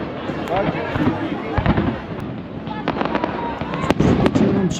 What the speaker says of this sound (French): on entend le feu d'artifice mais on voit rien du tout